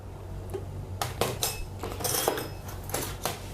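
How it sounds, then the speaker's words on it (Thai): Metal measuring spoons for kitchen recipe measuring are handled, giving a series of light, close clinks and rattles scattered across a few seconds over a quiet hum. "ต่อมาก็จะเป็นช้อนนะครับ ช้อนสำหรับช่างตวงวัด"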